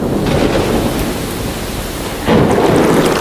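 A thunderstorm with heavy rain pouring down and gusting wind, a steady loud roar of rain that swells suddenly louder and denser partway through, with no voices.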